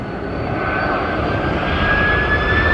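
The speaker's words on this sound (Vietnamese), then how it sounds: "Đây là một góc quay khác, chiếc A330 của Qatar Airways." A Qatar Airways Airbus A330 jet airliner at Noi Bai airport produces a loud, steady jet engine roar with a rising whine that holds throughout, close and continuous, with no talking.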